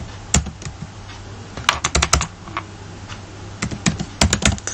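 Typing on a computer keyboard, with close, crisp key clicks arriving in short irregular bursts separated by brief pauses.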